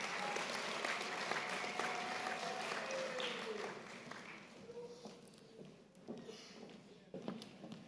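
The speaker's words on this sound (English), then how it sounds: "We can give a round of applause" At a university's tenth-anniversary celebration, an audience applauds as a speaker approaches the stage, a soft, sustained patter of many hands that gradually fades, with voices and faint tonal sounds mixed in.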